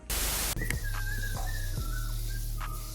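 A person whistles a wavering, thin melody nearby after a brief burst of static, the tune drifting in pitch over a low background hum for a few seconds.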